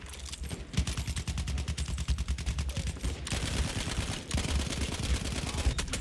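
Battlefield 1 game audio of rapid automatic gunfire, dense bursts of sharp shots rattling in quick succession with a brief gap mid-way, loud and close with no talking.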